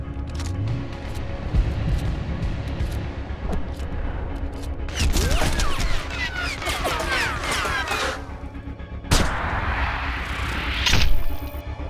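Gunfire in the Sniper Ghost Warrior 2 video game, with rapid bursts of shots and crackling impacts over a rolling low rumble, rising and falling in intensity across several busy stretches.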